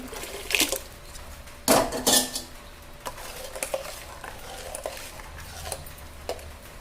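Dissolved jaggery water is poured into a vessel and stirred for mango panaka, with close spoon clinks and scraping against the pot and a couple of louder splashy bursts early on, without talk.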